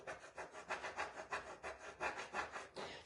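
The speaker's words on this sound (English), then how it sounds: "just lay it back down and rub it some more" A transfer's backing gets rubbed down by hand in a quick, steady back-and-forth scrubbing rhythm, about a dozen strokes, soft and close with no talking.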